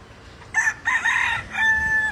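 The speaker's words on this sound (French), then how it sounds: "c'est hilarant ces coqs et ces poules là sur le parking" Roosters crowing among chickens in a hotel parking lot in Hawaii, two or three loud close crows in quick succession, with faint background noise underneath.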